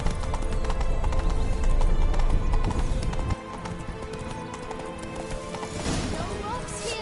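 Horse hooves clip-clop at a galloping pace in The Witcher 3, loud and rhythmic at first, then dropping to a lighter trot with a brief whinny near the end, while a voice speaks over it.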